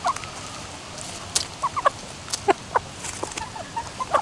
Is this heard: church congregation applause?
no